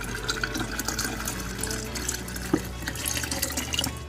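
Hot tap water poured into a kombucha batch, a steady splashing stream with a brief clink partway through, close and moderately loud.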